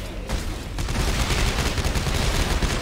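Gunfire from a weapon in the video game Dead Space 3, a dense, continuous burst of rapid shots that fills the whole stretch at a steady loud level with no talk over it.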